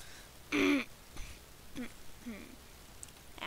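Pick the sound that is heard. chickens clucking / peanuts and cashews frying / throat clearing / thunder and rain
throat clearing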